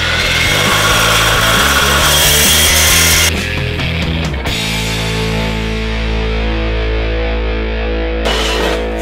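A power tool cuts angle iron for a stone mailbox frame, giving a loud, harsh grinding roar for about three seconds that drops to a lower steady whine and hum for the rest.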